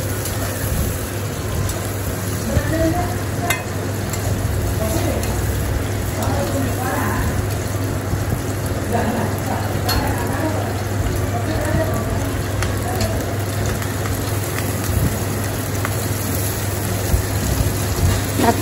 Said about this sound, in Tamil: இதில் எல்லாத்தையும் நல்லா வதக்கி விட்டுக்கோங்க